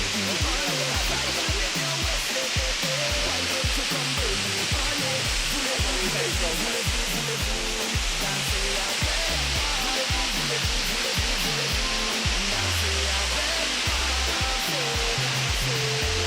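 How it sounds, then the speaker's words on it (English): Rincon Waterfall in Trinidad pours in a steady, loud, broadband roar of falling water that fills the whole scene, with faint voices now and then beneath the constant rush. "So folks, we are finally here. Rincon Waterfall."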